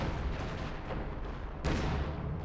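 An ISU self-propelled gun fires in a Company of Heroes 2 battle. A heavy boom with a sharp onset stands out over a steady, loud rumble of ongoing artillery and explosions.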